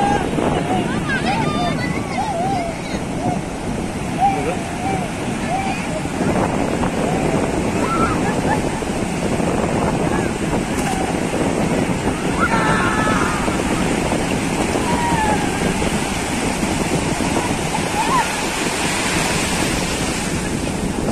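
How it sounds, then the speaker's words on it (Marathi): Sea waves wash onto the beach at Bhandarpule in a continuous roar of surf mixed with wind buffeting, while people talk intermittently in the background. "समुद्राची गाज बघा कशी, लाटांचा आवाज तुम्हाला येत असेल."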